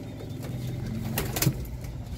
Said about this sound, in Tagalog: So ito rin yung mga ibon natin